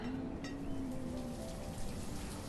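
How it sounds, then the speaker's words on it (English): Steady rain hisses across the world of the city-building game Banished, an even, dense wash with a faint tonal hum underneath, no voices. "I don't like it when it rains."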